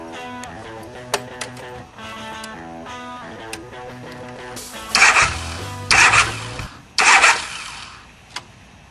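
A motorcycle engine is started up in a few loud cranking bursts that catch and rev briefly, layered over background music with sharp percussive hits.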